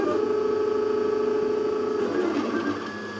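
A 3D printer works on a really uneven bed, its steady motor whine and stepper tones humming continuously at moderate level, close by, with no talk.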